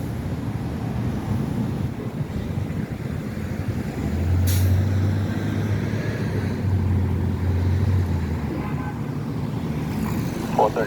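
Cars sit in congested traffic at a red light at Jackson Square, producing a continuous roadway rumble with a heavy vehicle's low engine hum swelling midway and a sharp air-brake hiss, and a voice speaks over it.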